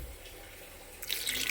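A small splash of water is poured into a masala paste for a kaari fish fry, a brief, close trickle arriving after a quiet moment.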